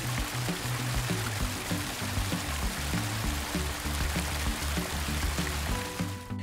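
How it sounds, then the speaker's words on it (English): Tap water runs steadily into a toy bathtub for a baby doll, a continuous loud pouring gush that holds through the whole stretch with no voices over it. "while I turn on the water"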